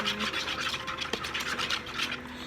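Glue and water slime mixture being stirred in a cup, giving a steady soft scraping and swishing rub that runs continuously and close by, with no talk.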